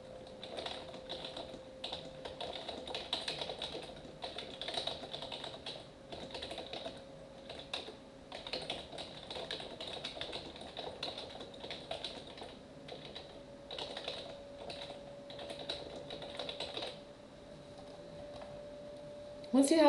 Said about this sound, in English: Then I can type in a description for my tour.